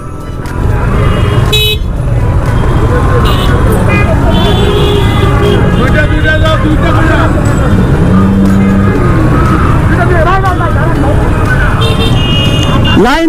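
Hundreds of motorcycles gathered at a Victory Day rally in 2021, a dense loud engine rumble with repeated horn honks and toots throughout, with people talking amid the crowd.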